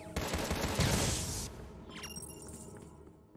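Turrets in the run-and-gun game Contra Rogue Corps fire in a dense, loud volley with shattering crashes, then the barrage thins to scattered lighter shots and whooshes as it fades.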